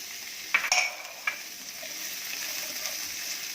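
Onion and capsicum stir-fried in a pan over medium heat, a steady close sizzle with a few sharp spatula scrapes and clinks near the start.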